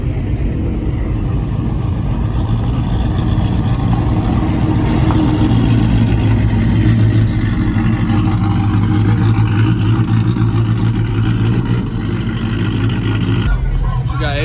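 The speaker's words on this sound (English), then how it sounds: "We got Adrian pulling up" A pickup truck rolls in at an outdoor truck meet, its engine rumbling loud and steady at close range with a slight rev, and people talk over it throughout.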